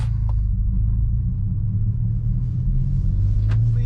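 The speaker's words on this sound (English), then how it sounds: "put it in first gear and slowly set off" A Hyundai i20 N hatchback sets off slowly in first gear, giving a steady low engine rumble that stays even and close throughout, with no voices.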